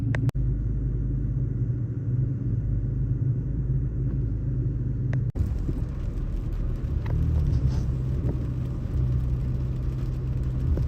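A car drives on a rainy day, with a steady low road rumble and tire whir heard from inside. A click partway through is followed by a brighter hiss from the wet road that continues to the end.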